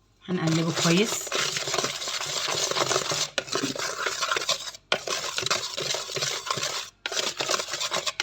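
Batter stirred steadily in a bowl for fried chicken coating, a busy scraping and clinking texture running almost continuously, close and fairly loud, with a few brief pauses.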